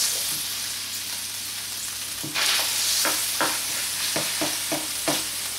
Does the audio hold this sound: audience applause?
no